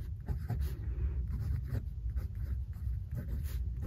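A Pelikan M200 fountain pen with a broad stainless steel nib scratches across paper, close and quiet, in a quick irregular rhythm of short strokes and brief pauses.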